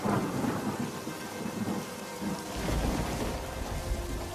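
A heavy storm of steady pouring rain with thunder rumbling low underneath, constant and dense throughout, no voices.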